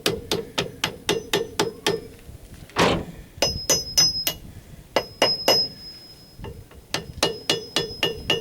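Small brass hammer tapping on metal parts of a Chevy 400 four-bolt engine, sharp ringing strikes in quick rhythmic bursts of several taps with short pauses, one duller thud midway, some hits leaving a lingering metallic ring.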